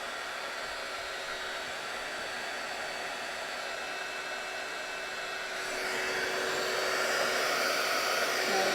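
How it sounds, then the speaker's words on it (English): A heat gun for heat embossing runs continuously with a steady airy roar, warming up before use. The tone shifts and grows slightly louder about two-thirds of the way through. No talking. "The secret is to allow your heat gun to warm up before you apply it."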